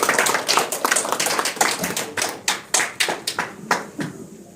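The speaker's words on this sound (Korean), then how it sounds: "박수로 모시겠습니다." A small audience at a year-end gathering claps in a short round of uneven applause that thins out toward the end. The room is otherwise quiet.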